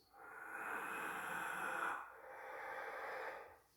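Two long, slow breaths during a gentle breathwork exercise, the first a drawn-out airy inhale and the second a softer, slightly shorter breath, close and clear with no talk.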